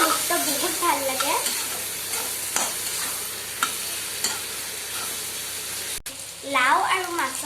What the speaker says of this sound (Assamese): মায়ে মাছৰ পেটু ভাজি আছে